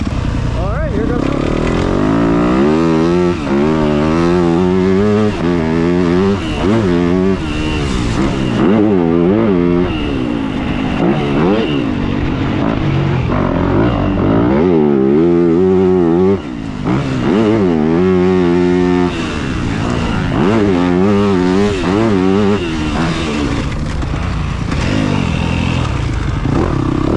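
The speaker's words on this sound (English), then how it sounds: "Has this bike been started yet? Yeah, Jackson's riding this thing." A Yamaha YZ250F four-stroke dirt bike engine runs close and loud. It is blipped repeatedly through rising and falling revs, with a few short dips between bursts over about half a minute.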